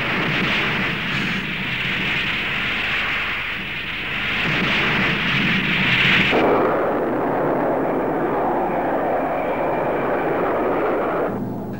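A McDonnell Douglas F/A-18 Hornet single-seat jet fighter roars steadily and loudly throughout, a dense broadband engine rush that shifts to a deeper, duller tone partway through as the aircraft passes, with no voices.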